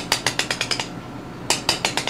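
A small gold hammer taps a hard surface in two quick runs of sharp, ringing strikes, about six evenly spaced taps, a pause, then four more, close and clear.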